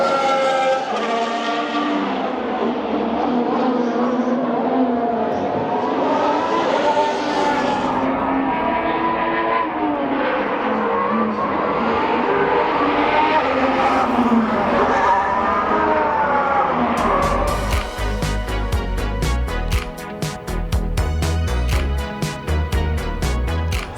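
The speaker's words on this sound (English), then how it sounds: "We can sort of hear the sound already. The cars are out on track." Formula 1 cars running during a first practice session, their high whining engine notes rising and falling as they pass at a distance, followed near the end by a denser, louder rattling burst.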